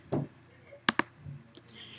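Computer mouse clicks on a share button, a sharp double click in quick succession, near and crisp, with soft background sounds around it.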